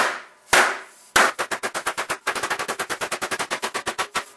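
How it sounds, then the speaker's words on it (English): Rapid, loud metallic hammering, a couple of heavy strikes followed by a fast steady run of mallet blows on sheet metal resting on a sandbag, close and with no talking. "Sandbag, mallet, and engage."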